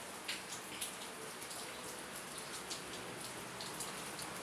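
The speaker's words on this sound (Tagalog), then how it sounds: "Lakas ng ulan, may bagyo daw." Steady heavy rain from Typhoon Kristine pours down, a dense hiss with scattered louder drops spattering on nearby surfaces.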